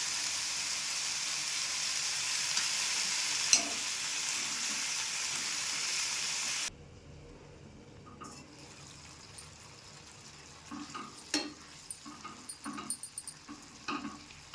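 Tomatoes and onions cook in a pan for paneer peas masala. A steady sizzling hiss runs for the first half, then drops to a quieter simmer with scattered clicks and stirring taps. No one speaks.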